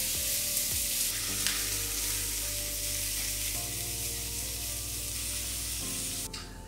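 Chopped onions frying in olive oil in a pan give a loud, steady, close sizzle that holds evenly throughout with no talking.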